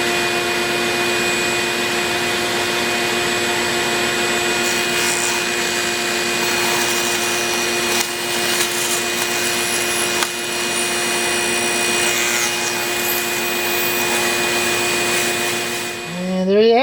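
A tuner machine cuts buttons while a shop vacuum hose fitted with mesh runs alongside, giving a constant loud whine with steady tones and intermittent rubbing and cutting scrapes, ending in a brief rattling clatter.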